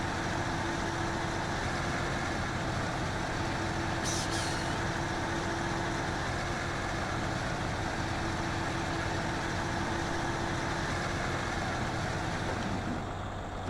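A Raven Class 1 heavy duty truck driving in the SnowRunner video game, with a loud, steady diesel engine drone and a constant engine hum that persist without a break, plus a brief hiss partway through.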